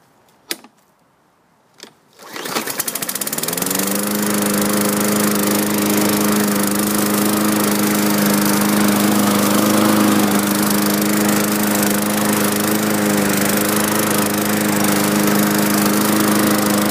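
A Murray 500E push lawn mower runs steadily over leaves after two short knocks and a startup at about two seconds, its loud, even engine drone holding without a break for the rest of the stretch.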